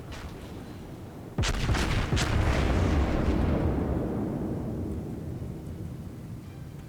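Naval gunfire from the battleship USS South Carolina in World of Warships gameplay: one loud, close booming salvo followed by a long rumbling roar that slowly fades, with no talk.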